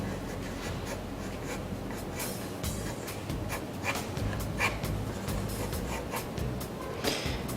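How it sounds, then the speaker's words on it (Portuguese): A pencil scratches over paper in a continuous stream of short strokes while an initial manga figure sketch is roughed out, close and steady, with a low background hum beneath. "Vamos fazer um esboço inicial de volume."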